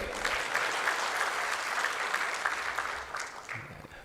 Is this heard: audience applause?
yes